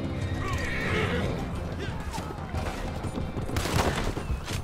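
A horse neighs and whinnies in the Red Dead video game, mixed with game ambience and distant gunfire. Someone talks over it.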